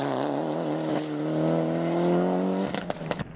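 Mitsubishi rally car racing on an Irish rally stage, its engine note loud and close and climbing through the gears. Near the end come sharp crackles and pops as it backs off.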